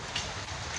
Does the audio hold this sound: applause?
no